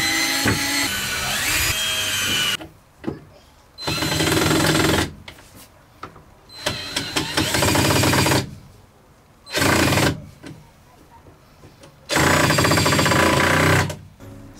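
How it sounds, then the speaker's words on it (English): A power drill drives into a cut-to-size piece of wood while a Peugeot Boxer L2H2 van is fitted out as a campervan, in several loud close whirring bursts of one to three seconds separated by short quiet gaps. "I'm going to quickly drill this one anyways into place"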